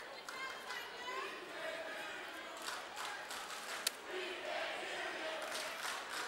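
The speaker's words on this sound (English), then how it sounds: "Well, the Pack's starting to get into it. Back and forth with the crowd." Crowd noise fills a high school gym during a Port Huron High vs Port Huron Northern basketball game, a sustained murmur with shouts and cheers swelling at a distance while a commentator talks over it.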